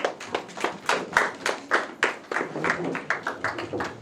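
A church congregation applauding during a Sunday service, a steady run of moderately loud hand claps with rhythmic surges, no voices over it.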